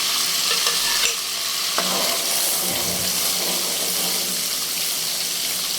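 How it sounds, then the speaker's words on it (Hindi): Freshly ground masala frying in a pan for dal with bottle gourd, a loud, steady close sizzle throughout, broken by a few soft stirring knocks, with no one talking. "इसको अच्छे से भून लेते हैं ताकि इसमें जो कच्चापन है वो सारा ख़त्म हो जाए"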